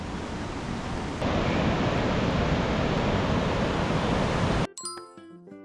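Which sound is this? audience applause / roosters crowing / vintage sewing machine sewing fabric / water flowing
water flowing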